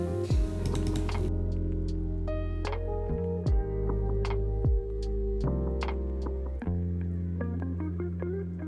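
Computer keyboard keys are struck in short bursts of sharp clicks, spaced irregularly over a sustained humming tonal background.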